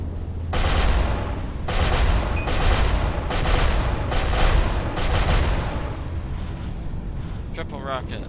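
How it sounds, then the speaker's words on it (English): Triple rockets firing in a video game come as a run of loud, booming bursts about every second, each with a rushing blast tail, over a steady rumble. "Let's go back to triple rockets."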